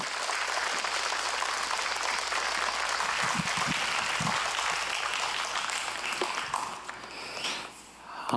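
A church congregation gives warm, sustained applause as a pastor comes forward, the clapping steady and fairly loud for most of the stretch before thinning out near the end.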